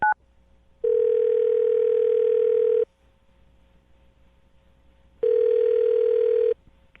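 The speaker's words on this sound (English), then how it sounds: "I'm going to dial the phone number right now and get him on the phone" A telephone line tone sounds while a phone number is dialed: two loud, steady electronic tone bursts, the first about two seconds and the second shorter, separated by a quiet gap.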